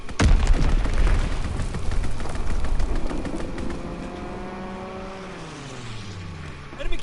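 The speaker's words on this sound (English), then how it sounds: "Enemy bomb incoming." Heavy enemy bomb blasts from a WWII video game hit loud and close at the start. Booming rumble follows, then fades into descending droning tones with a final thud at the end.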